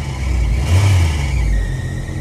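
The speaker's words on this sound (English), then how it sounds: "Oh, the soothing sounds of squeaky V-belts." A 1985 Toyota pickup engine runs close by with a steady mid-pitched drone, a faint high whine from squeaky V-belts held above the engine noise throughout.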